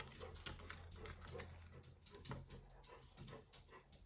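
Dog whimpering indoors, soft repeated whines and snuffles running steadily through the room at low level, with a low hum beneath.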